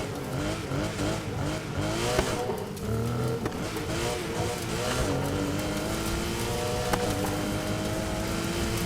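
A Mini Cooper rally car with a boxer engine races across sand in the Need for Speed Heat video game. The engine drones and revs loudly and continuously, and the tires squeal and skid throughout.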